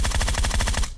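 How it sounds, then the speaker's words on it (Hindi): Close, fast automatic gunfire in PUBG Mobile, a tight continuous burst of about a dozen rapid shots lasting just under a second before cutting off. "तो फायरिंग कर रहा है मेरे को।"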